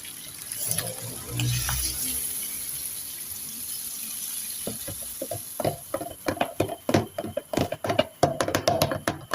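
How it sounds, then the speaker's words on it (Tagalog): Coconut milk goes into a pot of chicken curry with a liquid pour and stir: at first a low, even wash of sound, then a run of quick wet taps and splashes near the end. "Yan, pwede na natin ilagay ang gata."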